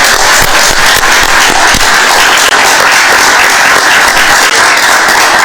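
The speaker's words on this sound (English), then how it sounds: "let's celebrate with an awesome round of applause" Sustained applause fills a city council chamber as the audience celebrates an elementary school robotics team, dense steady clapping throughout, loud and continuous with sharp individual claps standing out.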